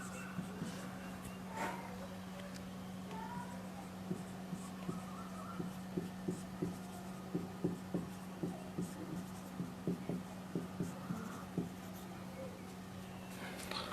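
Chalk or marker writing on a classroom board during a Hindi-medium chemistry lesson, a series of short regular taps and strokes, faint over a steady hum and room noise.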